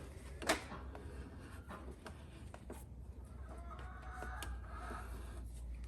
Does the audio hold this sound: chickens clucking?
yes